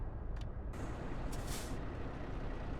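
Loud, steady hiss of air brake pressure building on a Kenworth truck in American Truck Simulator, a continuous broadband rush lasting throughout with a couple of brief brighter bursts, no talking.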